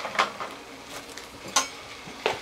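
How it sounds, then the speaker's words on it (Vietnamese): A metal Vietnamese phin coffee filter is handled and set up during a power cut, giving a few sharp, close metallic clinks and taps spaced irregularly over a soft background hiss. "do không có điện cho nên bây giờ mình sẽ pha bằng phin"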